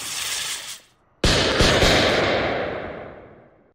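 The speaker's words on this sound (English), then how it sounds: "This is a rocket launcher." A rocket launcher fires in a VR video game: a short sound that fades, a brief gap, then a sharp loud blast with a few quick cracks that decays over several seconds.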